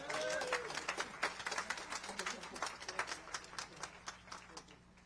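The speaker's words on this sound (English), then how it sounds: "Please give her a round of applause." A community audience at a Riverside climate action day applauds Councilmember Erin Edwards, a dense burst of indoor clapping that gradually thins and fades over about five seconds, with a brief voice near the start.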